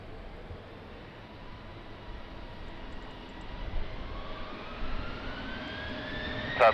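An airliner taking off from runway 20 at Lisbon Airport in rain and wind, a broad, steady jet-engine roar that swells gradually with a rising whine, heard from a distance without speech.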